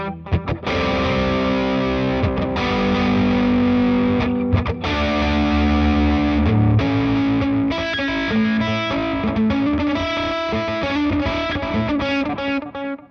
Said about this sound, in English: The delay in front of distortion sounds like this,